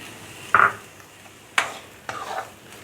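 Chopped green onions hitting a hot pan, three short sizzling bursts with stirring scrapes, each fading quickly over a quiet background.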